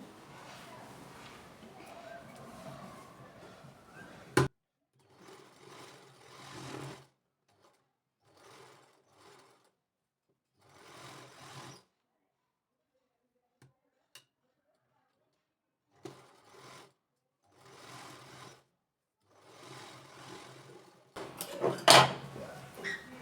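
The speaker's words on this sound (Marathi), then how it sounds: "डबल टिप टाकून घेऊया" Sewing machine stitching the sleeve of a short kurti, running in several short bursts of rapid stitching separated by pauses, with a sharp click near the start and a louder clatter of handling at the end.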